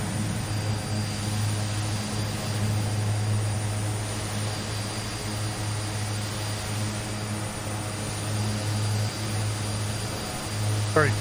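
Simulated Twin Otter twin-turboprop aircraft descending with power cut in Microsoft Flight Simulator 2020, a steady low engine drone and propeller hum running throughout at even loudness, with a brief higher tone near the end.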